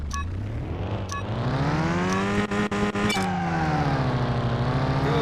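A small Toyota in Car Mechanic Simulator 2021, driven on a racetrack with misaligned wheels, revs hard with a rising engine whine through the gears, a few brief tire squeals and abrupt shifts, loud and alone.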